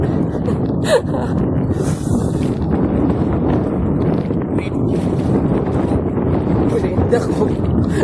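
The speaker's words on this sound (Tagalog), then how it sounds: "Galing kay grabing hangin." Strong wind buffets a small fishing boat at sea during crab netting, a loud, constant roar and rumble against the microphone, with brief voice sounds and a gasp breaking through now and then.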